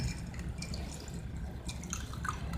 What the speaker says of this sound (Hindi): अब इस पानी को हमें दूसरे गिलास में छान लेना है